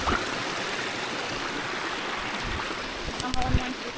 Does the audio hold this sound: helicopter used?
no